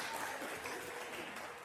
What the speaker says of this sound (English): Round of applause for honesty